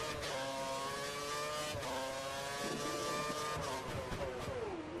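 An F1 car in the F1 2013 video game roars past during the Indian Grand Prix, its high-pitched engine whine rising and falling steadily through gear changes, loud and continuous with no voices.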